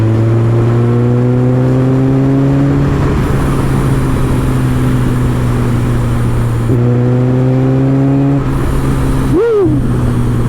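Supercharged 370hp Kawasaki ZZR1400 motorcycle engine pulling hard in top gear on a road, a loud close droning roar with rising pitch that drops at a gear change and climbs again, with heavy wind noise throughout.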